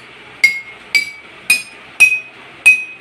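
Five water-filled glasses of differing levels, used as an improvised xylophone, are struck one after another at an even pace, each giving a bright ringing clink with a short decay, close and clear with no talk.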